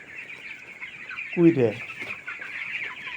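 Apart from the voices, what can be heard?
broiler chickens clucking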